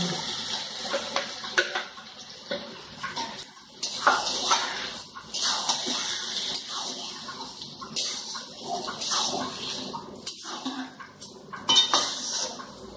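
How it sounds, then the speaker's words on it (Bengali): Dal being added to a pan of egg tadka in a home kitchen, with scraping and clinking of a spoon against the pan and splashy, wet pouring sounds, close and irregular, no voices. "এবার আমি ডালটা এতে দিয়ে দিচ্ছি।"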